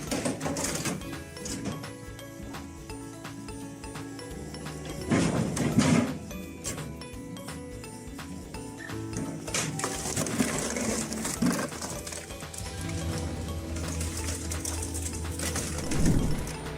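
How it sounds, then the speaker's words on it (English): A firewood processor machine turns logs into firewood with a continuous close mechanical clatter and rattle, broken by louder crunching, splitting bursts near the middle and end, with no voices. "this firewood processor is its ability to convert wood into quality firewood products without requiring too much labour"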